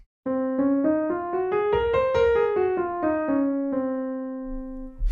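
A quick rising and falling run of plucked or struck notes in the dark, dissonant Locrian mode climbs to a peak and descends, ending on a low held tone with a faint noise.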